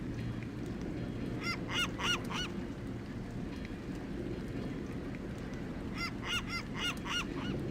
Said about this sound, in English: Quiet seagulls.